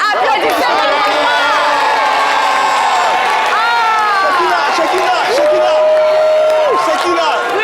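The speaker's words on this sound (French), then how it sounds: "Applaudissez, maman" A lively studio crowd at a French-language TV show cheers, whoops and shouts, with children's voices, in a loud, sustained roar of excited voices with little distinct clapping.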